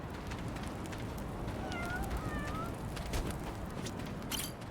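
A cat in the Lost Judgment video game meows a few times, short rising and falling calls near the middle, over a busy street ambience with no talking.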